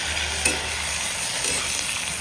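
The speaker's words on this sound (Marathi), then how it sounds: "मी चार पाच लसणाच्या पाक्या पण न सोलतात असे टाकलेले ते आपण मिरच्यासोबत भाजून घेणार आहे" Green chillies and whole unpeeled garlic cloves roast in a pan with a steady, close sizzling hiss and a couple of soft stirring knocks, with no voices.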